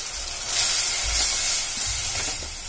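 Beetroot rice mixture with chili powder sautéing in a pan, a steady close hiss and sizzle with soft low stirring thumps throughout.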